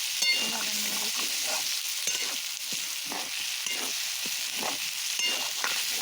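Tomatoes fry in a generous amount of oil during meat cooking. A steady sizzle sits under rhythmic scraping strokes of a spoon, repeating about once a second and heard close up.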